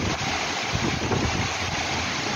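Strong typhoon wind in Hong Kong's Lohas Park, a loud, continuous roar of gusting air buffeting the microphone, steady and unbroken throughout.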